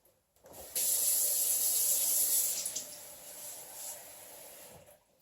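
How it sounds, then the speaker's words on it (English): Water runs steadily from a tap and splashes onto onions in a container for a few seconds, loud and close, then eases off and stops. "I'm going to put a little water on the onions."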